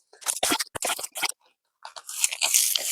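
Garlic bulbs being pulled from garden soil, a series of close crunchy tearing and ripping bursts as the roots break free, with a short pause before a longer, rougher rip.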